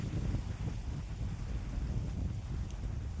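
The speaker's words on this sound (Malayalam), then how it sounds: "അപ്പം ഒഴുക്കുമുണ്ട് അത്യാവശ്യം കാറ്റുമുണ്ട്" Steady wind buffeting a microphone outdoors on the water during traditional hook fishing, a continuous low rumble with faint water current and boat hum, no voices.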